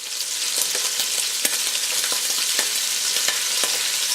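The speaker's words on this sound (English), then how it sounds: "I want it to brown a little bit. So I'm going to saute these for a little while." Shrimp and sausage sautéing in a pot, a loud continuous sizzle with frequent scraping stirs and clicks of a utensil against the pot, no voices.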